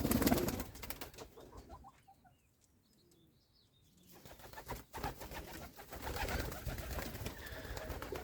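Pigeons in a village aviary, with soft cooing and a flutter of wings near the start, then a quieter stretch before the birds grow busier and fuller toward the end.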